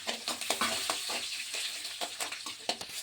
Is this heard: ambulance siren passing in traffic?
no